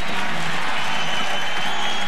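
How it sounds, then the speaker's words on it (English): A basketball arena crowd at an Indiana vs Illinois game roars and applauds in a continuous, loud wash of cheering that fills the whole moment. "he's got this crowd back into it again"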